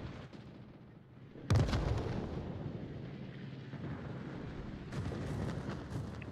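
Spaceship weapons firing in a space battle game: a sudden heavy thudding blast followed by a rumbling wash, then a second burst of crackling fire near the end, fairly quiet overall.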